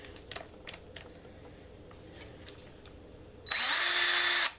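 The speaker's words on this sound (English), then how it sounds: "Then we'll take our drill" A power drill spins up and bores into a steel ammo can being built into a battery box, a loud steady whine lasting about a second after some quiet handling clicks, close to the mic.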